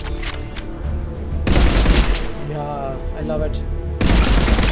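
Revenant rifle fire in the video game Mass Effect 3, loud rapid bursts of automatic gunfire starting and stopping in sharp blocks, with someone speaking briefly between shots.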